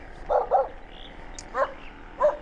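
A dog barks a few times in short bursts at a moderate distance, separate yelps spaced over a couple of seconds against a quiet outdoor background.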